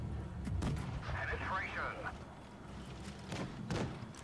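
Tank cannon shots and impacts from the game World of Tanks Blitz fire in a few sharp bursts over game background noise, with a brief tonal whine in the middle.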